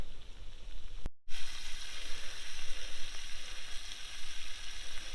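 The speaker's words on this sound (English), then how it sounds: "Got the sizzle going." Steak sizzles over a campfire beside the Wimmera River, a bright continuous crackling hiss that holds steady after a brief cut, close and fairly loud with no talking.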